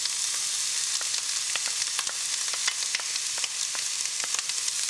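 Bacon, garlic and spring onions fry in a pan, giving a dense, continuous close sizzle dotted with small crackles and pops, with no talking over it.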